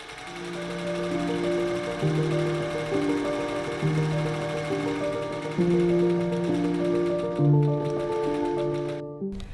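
A sewing machine stitches a tailored Victorian coat sleeve, its steady motor whir running in repeated bursts that stop and start every second or two, close and fairly loud with no talking.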